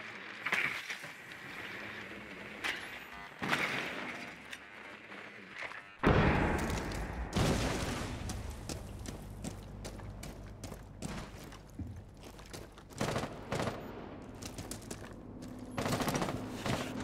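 Gunfire in Rainbow Six Siege on the Kafe map, with bursts of shots through a wall, loud and sharp, repeating in clusters over a busy game soundscape.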